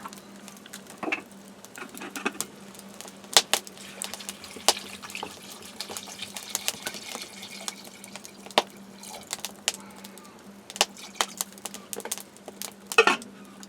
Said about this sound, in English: And then cover it with water